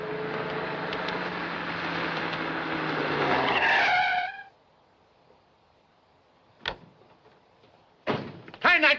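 An old film car skids with a long loud tire screech and engine roar, cutting off abruptly into near silence, followed by a sharp knock and then louder bangs and rumbling near the end.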